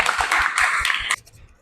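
Hands clap in a quick, even series of about six sharp claps, close and fairly loud, with faint voices murmuring underneath, before the clapping breaks off and a quiet room remains.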